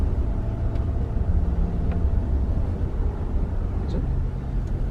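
A car creeps slowly between cones during a driving lesson, its engine a steady low rumble heard from inside the cabin, with no voices over it.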